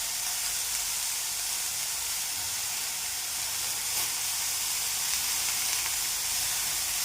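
Broad beans frying in a pan for a home lunch, a steady bright sizzle and hiss running unbroken throughout, close and even, with no voices.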